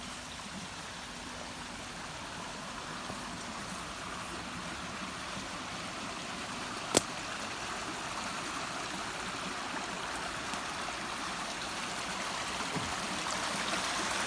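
Water rushes steadily and fairly loudly, a continuous broad roar of a rain-swollen stream at a usual waterfall spot flowing nearby, with one sharp click midway.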